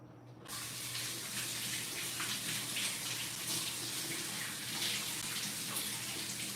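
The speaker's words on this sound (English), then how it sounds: "Let's wash this out." Tap water runs steadily into a sink while a juicer is rinsed out at night, a constant close hiss of flowing water starting after a brief quiet moment and continuing alone without talk.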